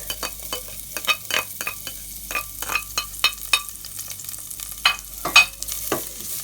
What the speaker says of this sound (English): Then I will add the mustard seeds and the moldy fish flakes first. Then the pandan leaves, curry leaves, and the garlic.